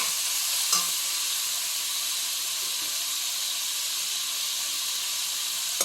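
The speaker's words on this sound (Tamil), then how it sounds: "அதனால் இந்த மாதிரி நான் வதக்கி பண்ணுறேன்" Chicken and potato gravy with drumsticks sautéing in a pan gives off a constant, even sizzling hiss, close and fairly loud, with a faint stir or two and no voices.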